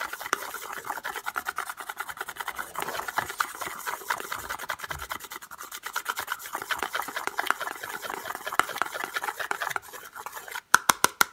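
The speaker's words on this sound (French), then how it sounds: "Tout petit peu d'eau dans notre récipient que je vais mélanger." Paint mixed with a little water is stirred in a small container, making a steady run of quick scraping clicks and taps. A few sharper knocks come at the very end, with no voice.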